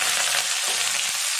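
Finely chopped onion and curry leaves, with cardamom, sizzle steadily in hot oil for a white kurma. The hiss is loud and close, broken only by a faint stirring noise, and no one speaks.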